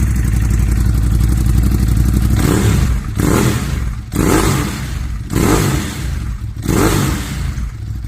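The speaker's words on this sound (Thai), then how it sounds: "เดี๋ยวผมจะพาไปฟังท่อเทอร์มีคู่ว่าจะดังเพราะแบบไหนไปฟังกัน" A 2016 Ducati Monster 821 idles loudly, then revs hard in four or five sharp bursts through a throaty twin Termignoni exhaust, each blip dropping back between pulses.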